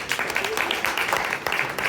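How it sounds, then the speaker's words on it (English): An audience at a talk by AI product builders gives the panel another round of applause, with close, distinct claps pattering irregularly and a voice audible underneath. "Let's give them another round of applause"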